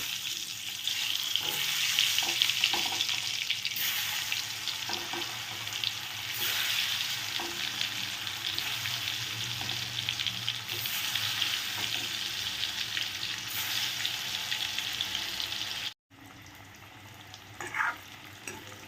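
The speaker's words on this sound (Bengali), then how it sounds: "আমার আলুগুলোও ভালো করে ভেজে নিয়েছি।" Half-boiled potatoes fry in a pan with a dense, steady sizzle and occasional stirring, close and loud. The sound cuts off abruptly near the end before a quieter frying hiss returns.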